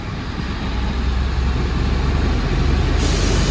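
International Eagle 9900 truck on a Jamaican road, loud continuous diesel rumble swelling gradually, with a shift in tone near the end as it changes gear; no talking.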